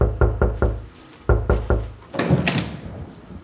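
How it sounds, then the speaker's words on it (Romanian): Knocking on a door in a Romanian short film scene, two quick bursts of three firm raps each, close and loud, followed by a rustling, muffled thud. "Bate cineva la ușă."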